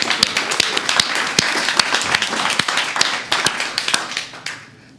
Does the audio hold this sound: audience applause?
yes